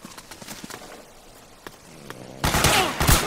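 Gunfire in Metal Gear Solid 4 during a South America firefight: scattered single shots and footsteps early on, then a loud sustained burst of automatic fire in the final second, with no talk over it.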